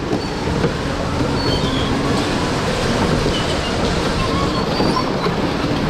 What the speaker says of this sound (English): with it being indoors, they're electric powered, so you can see the power rails in the floor actually